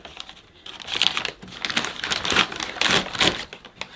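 Paper bag holding three small vacuum cleaning tools for a Hetty XL Plus crinkles and rustles as it is opened, a close, busy run of bursts with brief pauses, no talking.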